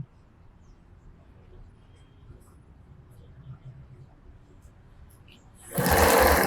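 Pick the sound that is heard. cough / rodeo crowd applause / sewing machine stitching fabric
sewing machine stitching fabric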